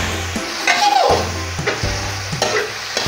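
Hakka noodles being stir-fried in a pan, with steady close sizzling broken by repeated tossing and scraping strokes about every second.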